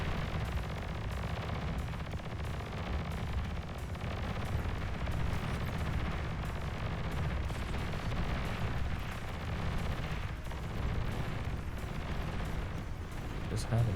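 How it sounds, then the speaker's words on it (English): A nuke goes off in the strategy game Beyond All Reason, a sustained rumbling blast that rolls on among scattered gunfire and artillery thuds, distant but steady, with faint talk over it. "Nuke going off again"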